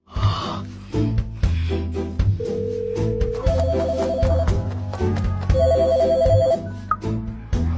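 A telephone rings with a melodic electronic ringtone, a steady run of bright repeating tones over a low pulsing backing, loud and close with no talking.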